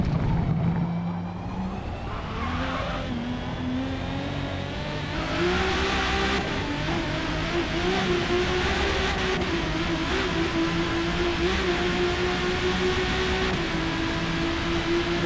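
A widebody Toyota Supra with a six-cylinder engine of over 1100 horsepower pulls hard down a racing game straightaway, its engine note climbing steadily and loudly through the gears with a brief shift partway, no voices.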